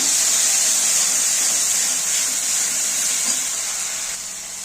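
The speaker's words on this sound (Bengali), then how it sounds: "এবার একটু কষিয়ে নেব।" Spices with salt and turmeric sauté in hot oil alongside fried tomatoes for a Bengali katla fish curry, giving a steady, close, bright sizzling hiss that eases slightly toward the end.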